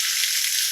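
Steady, close hiss and crackle of chicken sautéing and frying in a pan for bourbon chicken, a continuous bright sizzle with no pauses and no voices.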